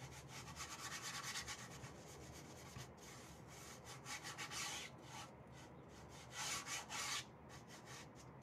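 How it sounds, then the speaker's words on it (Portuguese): Sandpaper rubs back and forth over an MDF craft box in quick rhythmic strokes, a close scratchy rasp with short pauses and a few stronger passes near the end, quiet overall, no talking. "Poder lixar, né?"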